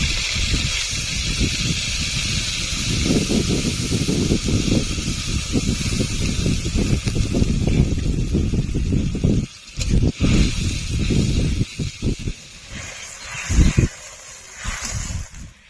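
Masala-rinsing water, from washing the ground ginger, cumin and dry chilli paste, hits a hot pan for vegetarian potato paneer and sizzles loudly and continuously, the hiss breaking into sputters and fading toward the end.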